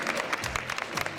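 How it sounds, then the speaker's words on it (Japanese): Crowd applause at a Halloween costume contest at Abeno Harukas, a brief burst of dense clapping with some voices mixed in. "仮装コンテストに参加していただいた方にもう一度大きな拍手をお願いします"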